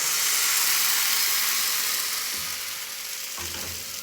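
Rice flour palappam batter poured into a hot oiled pan and swirled: a loud, dense sizzle that slowly eases, with a couple of brief knocks of the pan near the end.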